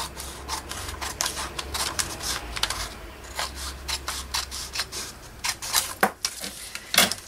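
Paper is cut with scissors during a folding craft, giving soft, quick snipping and rubbing sounds in an irregular rhythm, faint and close, with no speech.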